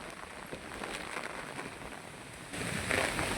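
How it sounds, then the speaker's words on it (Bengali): Heavy rain with wind, a faint, even hiss of rainfall and gusts that swells slightly toward the end. "এখানে খতরনাক পরিমাণ বৃষ্টি শুরু হয়ে গেছে"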